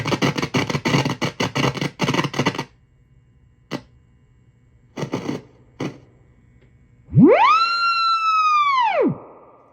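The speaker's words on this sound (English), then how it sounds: "that's incredibly distorted. It's more like square wave there." Harsh, buzzy distorted test tone, nearly a square wave, blares from a 1967 Fender Princeton Reverb guitar amp for about two seconds, rising and falling in pitch, after earlier bursts of clicky noise.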